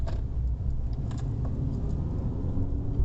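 A manual learner car pulls away at a road junction on a first driving lesson, its engine a low, steady rumble heard from inside the cabin with faint clicks and rattles over it, and no talk.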